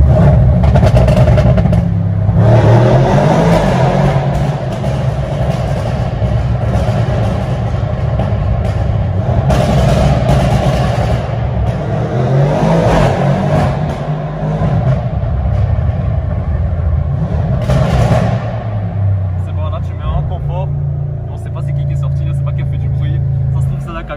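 A 2020 Audi RS7 C8 fitted for pops and bangs roars loudly from close by, its engine revving hard in surges with sharp crackles, while people talk over it at times.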